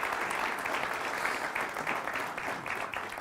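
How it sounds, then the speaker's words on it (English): Conference audience applauding in a hall, a dense, even wash of many hands clapping at moderate volume, sustained throughout without voices on top. "Let's have a round of applause for all of the work that that represents."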